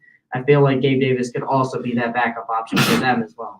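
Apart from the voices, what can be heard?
sneeze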